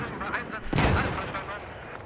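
A grenade goes off in Battlefield 4 multiplayer, one sharp loud blast midway that rings out briefly over ongoing game noise.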